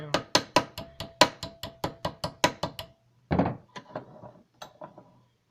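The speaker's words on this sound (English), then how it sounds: "Slowly work it around. Let the vise work for you." A metal vise slowly bends a silverplate baby spoon into a ring, giving a steady series of about a dozen sharp, close knocks and clicks, then a few scattered scraping thunks after a short pause.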